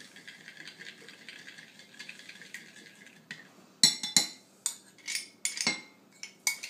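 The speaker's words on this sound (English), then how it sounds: "it's stirring in real nicely, blending in real good" A spoon stirs cornstarch into a thick raspberry glaze, starting with soft scraping and then sharp clinks and taps of metal against the pot in irregular bursts, close and with no talking.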